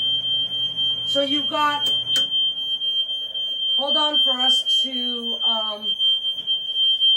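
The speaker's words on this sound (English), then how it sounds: "stop the smoke alarm." A continuous high-pitched smoke alarm tone sounds loudly throughout while people speak over it.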